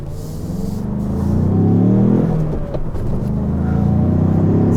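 A 2022 Ford Bronco's engine pulls hard as the SUV accelerates on the road, a loud steady rising roar heard from inside with a brief dip partway through.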